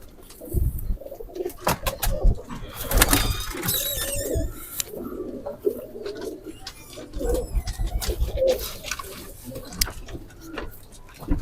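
Khatang crossbreed pigeons coo in soft, repeated throaty rolls, close by, with wing flutters, scratching and shuffling sounds in a loft.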